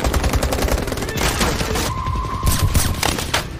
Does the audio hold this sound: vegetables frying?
no